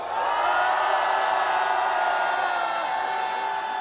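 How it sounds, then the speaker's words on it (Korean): A large audience at a political rally speech applauds and cheers in a dense, steady roar of clapping and voices that holds loud and unbroken throughout. "우리 특수본 검사들에게 힘을 내라고 여러분 뜨거운 격려의 박수 보내주시기 바랍니다."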